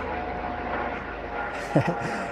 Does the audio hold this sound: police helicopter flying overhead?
yes